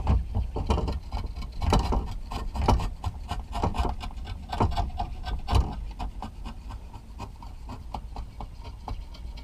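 Sandpaper rubbing across the wooden body of a handmade three-string guitar, a near, dry scratching in uneven back-and-forth strokes with a few sharper bursts, steady throughout with no talking.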